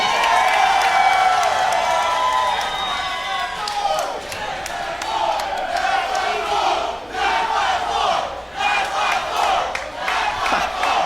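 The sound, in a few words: wrestling crowd cheering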